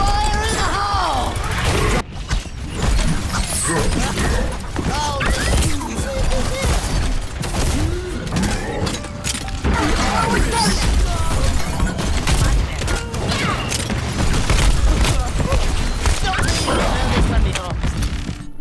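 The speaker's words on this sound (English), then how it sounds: "Just throw it and blast, and there you go, just like this. Fire in the hole!" Junkrat's concussion mine and grenade blasts in Overwatch, dense repeated explosions and clattering mechanisms in loud, continuous gunfire-heavy game action with a voice talking over it.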